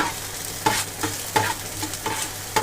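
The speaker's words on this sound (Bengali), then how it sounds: "রসুনটা এখানে হালকা একটু নাড়াচাড়া করে দিয়ে দেবো" Garlic and chopped green chilli frying in a pan while a utensil stirs them, giving sharp scraping strokes roughly every half second over a steady close sizzle, with no talking.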